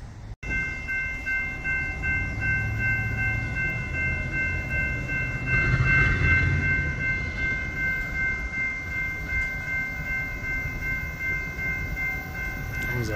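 A train rolls past at a level crossing, a loud, continuous rumble of wagons on the rails with a steady tonal crossing-bell ring over it, swelling briefly at the midpoint, close and without talking.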